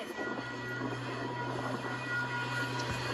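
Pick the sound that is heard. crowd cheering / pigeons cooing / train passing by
train passing by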